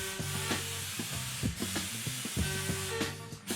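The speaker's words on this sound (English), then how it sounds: "attach the universal applicator gun into the resin can labeled A. Set the air pressure at 55 to 65 psi and spray onto the surface to be coated" Compressed-air universal applicator gun spraying resin coating at 55 to 65 psi, a steady airy hiss with faint rhythmic clicking and shuffling underneath, close and moderately quiet.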